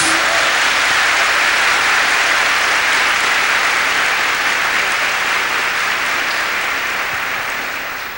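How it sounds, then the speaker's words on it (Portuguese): A church congregation gives loud, sustained applause, a thick continuous roar of clapping that holds steady and tapers slightly at the end. "Give the Lord a big clap for that."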